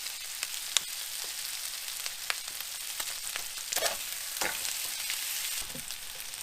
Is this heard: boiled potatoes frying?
yes